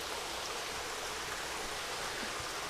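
Well water pours into a fish pond in a steady, even hiss of splashing flow that runs without a break and with no voices.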